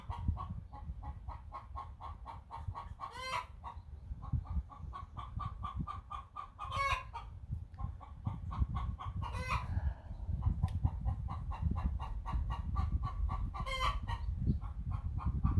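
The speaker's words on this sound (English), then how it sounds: "I'm gonna get the chickens going" Chickens cluck in a steady chorus while a rooster crows several times at intervals, with a low background rumble.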